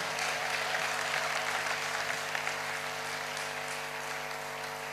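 A church congregation applauds the Lord in steady, sustained clapping that fills the room, moderately loud and continuous, with no voices standing out.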